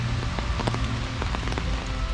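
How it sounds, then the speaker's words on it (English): Steady rain falls across a cemetery in Lexington, Kentucky, a continuous close patter of drops striking surfaces, with a few sharper individual drips standing out and no voices. "And I mentioned that it's raining."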